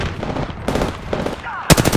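Automatic weapon fire in Apex Legends, with bursts of rapid shots mixed with game sounds and a loud sharp volley near the end.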